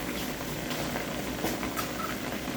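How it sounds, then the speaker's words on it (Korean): Spicy Korean tofu stew boils over high heat, a soft, quiet, continuous bubbling and popping with no voices. "두부가 이렇게 보글보글 끓고 있어요."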